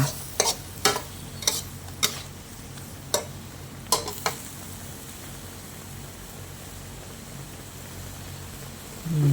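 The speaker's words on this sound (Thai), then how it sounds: "ใส่ต้นหอมลงไปเลยแล้วก็คนให้เข้ากัน" Sweet and sour shrimp with spring onions stir-fried in a pan: steady close sizzle with a string of sharp scraping clicks from the utensil early on, easing to a continuous hiss, no talking.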